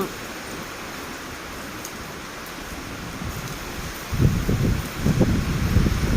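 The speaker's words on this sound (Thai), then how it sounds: "ลมแรงฝนสาดเข้ามา" Strong gusts drive rain against an outdoor elephant shelter, a steady hiss of wind and spray that swells into louder low buffeting bursts toward the end.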